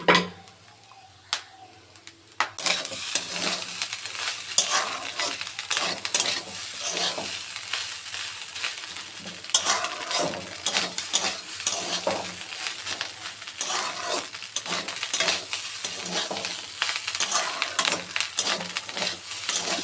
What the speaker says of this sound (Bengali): তারপর টমেটো দিয়ে ডিম দিয়ে একটু ভাজা ভাজা করে দিচ্ছি